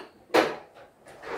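Brakes snap on a reclining wheelchair chair, one sharp mechanical clack followed by two softer clicks, close and isolated in a quiet room.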